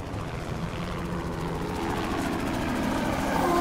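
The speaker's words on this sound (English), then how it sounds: "Is that another helicopter?" A helicopter in a video game thrums steadily with a continuous rotor chop and engine drone, holding a fairly even level and swelling slightly toward the end, with no talking.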